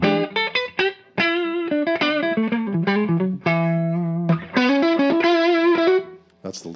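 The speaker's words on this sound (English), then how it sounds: "That's the lead sound." A distorted electric guitar through an Orange amp plays a lead melody with sustained, singing notes and some chorus shimmer, loud and continuous with brief pauses.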